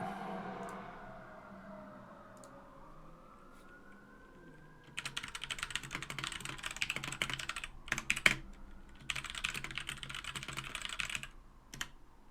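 Keys clatter on a Royal Kludge RK71 keyboard in two fast bursts of rapid, close typing separated by a brief pause, following a quieter stretch with a faint rising tone in the background.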